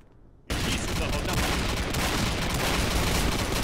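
Dense, continuous automatic gunfire from the video game Combat Arms erupts abruptly after a brief quiet moment and roars loudly without pause to the end.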